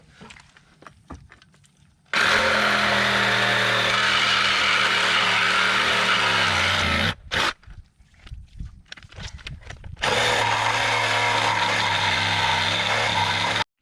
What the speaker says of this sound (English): start sawzall on these